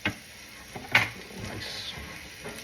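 Filet mignon sizzling in a buttered pan just after being flipped, a steady crackling fry with a brief clatter of utensils near the start.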